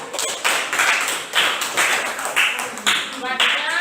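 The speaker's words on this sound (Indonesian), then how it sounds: "Kita berikan tepuk tangan." A classroom of students claps for a group that has just presented, several loose bursts of hand clapping close by in an uneven rhythm, with a few voices mixed in.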